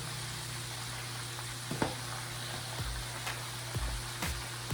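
Chicken pieces sizzling as they fry in oil over low heat, a steady close hiss with occasional soft knocks and pops from the pan, no voices.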